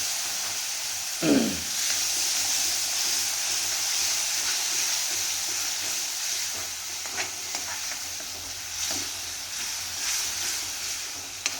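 A tadka sticking to the bottom of a kadai, cooked for simple chilli paneer, hisses and sizzles steadily once water is added, with a brief sharp burst at the start and faint stirring scrapes after.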